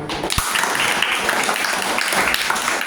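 A crowd at a Tamil student speech competition prize ceremony claps together, producing a steady, dense wash of applause that holds at an even loudness for the whole stretch.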